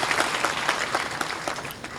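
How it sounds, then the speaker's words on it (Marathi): Audience at a kirtan bursting into applause, a dense wash of clapping hands that holds steady for a couple of seconds without voices on top. "एकदा टाळ्या वाजवा त्यांच्या नावाने."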